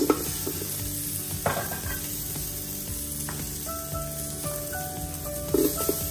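Sliced onions sautéing in hot oil in a pot for salmon head sinigang, a steady close hiss with occasional stirring clatters and scrapes, alone without talk.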